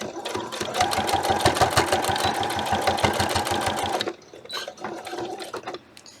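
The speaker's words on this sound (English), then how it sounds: "It's easier if I go slow and only do 2 or 3 stitches at a time." A sewing machine stitches fabric in a steady, rapid mechanical chatter for about four seconds, then stops and gives a few shorter, softer bursts of stitching close by.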